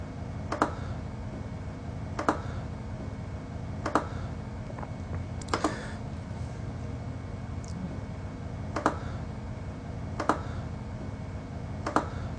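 Crisp computer mouse clicks while working in CEREC dental software on an onlay restoration, isolated single clicks spaced a second or two apart over a steady low room hum.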